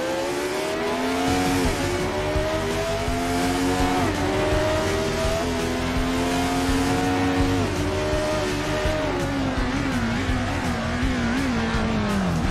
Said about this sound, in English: so shall we have our drag race down to the line, Carlos Reutemann?